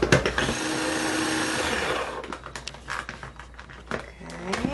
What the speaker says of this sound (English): Now we blend.